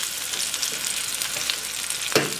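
Thin Wagyu burger patties sizzle on a small grill, a steady crackling hiss with occasional sharper pops, close and continuous.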